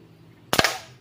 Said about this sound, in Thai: เดี๋ยวผมจะลองยิงให้ดูนะ ยิงสามกระป๋องจากแป๊บซี่ก่อน